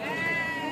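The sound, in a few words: goats bleating at Kadiri goat market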